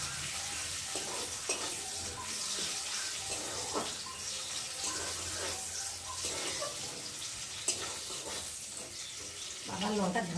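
Garlic frying in a pan crackles and sizzles steadily at close range, with intermittent stirring knocks and clinks; no words are spoken.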